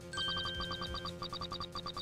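A phone rings in the Ace Attorney Investigations video game, a rapid electronic trill of repeated bright chirps in a steady pattern over a quiet musical background, close and clear.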